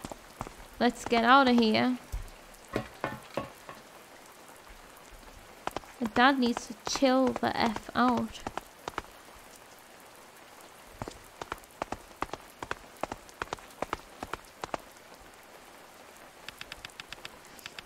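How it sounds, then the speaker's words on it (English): Rain patters lightly in the game A Space for the Unbound, a scattered drip-and-tap of drops on surfaces that keeps going throughout, with two stretches of voices talking over it early on. "It's starting to rain."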